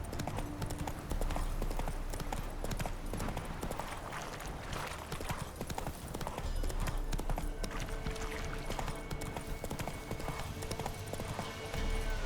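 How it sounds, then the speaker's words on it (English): Horse hooves clip-clop at a gallop in the Witcher 3: Wild Hunt video game, a continuous rapid drumming over game ambience and music that runs the whole stretch without a break. "Whoa there, Roach."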